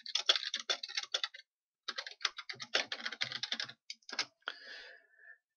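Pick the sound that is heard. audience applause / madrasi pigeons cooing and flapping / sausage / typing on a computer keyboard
typing on a computer keyboard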